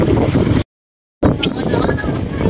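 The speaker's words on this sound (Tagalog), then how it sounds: "Medyo mahangin lang, hindi naman ganong malakas ang hangin" Wind blows across an open sandbar near Olympia in Bais, roaring steadily into the microphone as broadband rumble, broken by a brief dropout, with a faint splash or water sound underneath.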